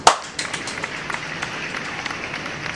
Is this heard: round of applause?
yes